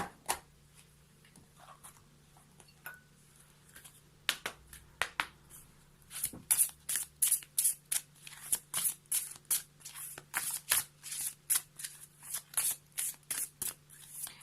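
Oracle cards being shuffled and drawn from the Spirits of the Forest deck, a long run of crisp riffling flicks and slaps that speeds into a steady rapid rhythm, close and fairly quiet over a low background hum.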